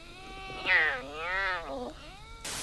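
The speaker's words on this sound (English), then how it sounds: "Clouded leopards can't do either, instead they do this." A clouded leopard gives a drawn-out, wavering moan-like call, rising and falling in pitch for about a second and a half, followed by a softer short trailing note, close and fairly clear over a quiet background.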